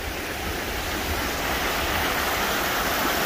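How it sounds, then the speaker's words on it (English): Steady broadband rush of a waterfall along a forest hiking trail near a rustic bridge at a Washington campground, continuous and full without breaks, no voices. "There's even a waterfall right back in there."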